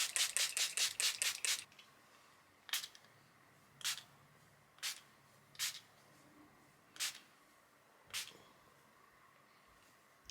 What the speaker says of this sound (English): This is just some volume spray by Way for my hair